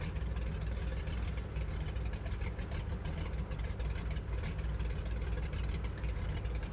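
A floatplane's piston engine drones steadily in Microsoft Flight Simulator 2020 while the plane taxis on the water in gusty Alaskan wind off Kodiak Island, a loud, constant low rumble with no breaks.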